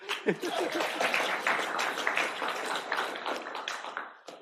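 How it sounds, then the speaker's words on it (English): Audience applause during a lecture: a crowd of hands claps loudly and continuously for several seconds, with faint voices mixed in, then tapers off. "Clap, please."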